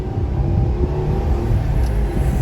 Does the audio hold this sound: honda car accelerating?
yes